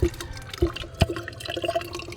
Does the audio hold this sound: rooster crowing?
no